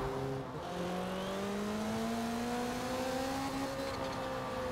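A turbocharged Toyota Celica ST205 engine in Forza Horizon 4 drones steadily as it accelerates, its tone climbing smoothly through a long pull, even and fairly loud.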